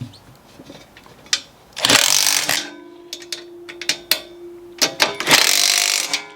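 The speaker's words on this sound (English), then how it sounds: "And then I got my little hand drill here. This doesn't torque down very hard" A small handheld power drill tightens a nut onto a bolt in short loud bursts, the motor whirring up and cutting off several times with clicks and clatter between runs.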